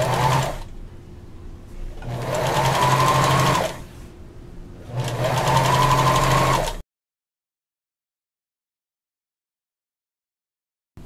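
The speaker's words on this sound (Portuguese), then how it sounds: "Aqui eu já posicionei minha máquina no ponto zigue-zague. E eu vou elastizar essa calcinha." A sewing machine set to zigzag stitch sews elastic onto panties, running in three loud, close bursts separated by brief pauses before falling silent.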